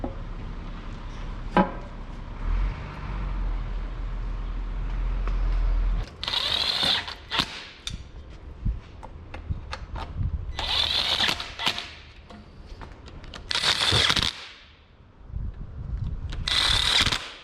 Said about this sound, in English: I use the gun to bolt it down just because it's way faster